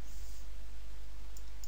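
A mouse click on a computer, a small faint click sitting over a steady background hum, with no talking.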